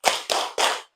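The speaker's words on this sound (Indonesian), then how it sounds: "kita tepuk anak soleh terlebih dahulu" Three sharp, close hand claps in an even rhythm, each ringing briefly before the next, as children start the 'tepuk anak soleh' clap chant in an Islamic classroom lesson.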